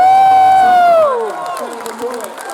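A convention audience cheering loudly for panelists, a sustained high shout that fades into scattered whoops and a thinner patter of applause.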